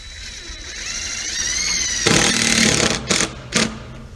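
Power tool driving screws into raised garden bed posts: a rising whine, then a louder burst of grinding and two short sharp bursts, close by.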